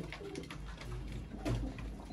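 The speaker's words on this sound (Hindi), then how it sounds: "अब आपको छत वाले कबूतरों का शौक करवाएंगे" Pigeons kept on a rooftop cooing: soft, low, repeated coos close by, faint overall, with no voices.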